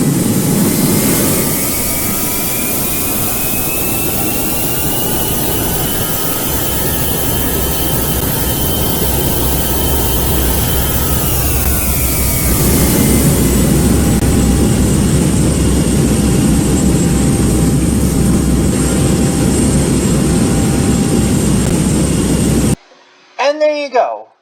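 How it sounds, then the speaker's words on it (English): Boeing 737 jet engines throttling up in a flight simulator game roar steadily with whining tones that rise, then the pitch shifts and the rumble continues; a voice speaks briefly at the end. "So yes, that's what the engines sound like."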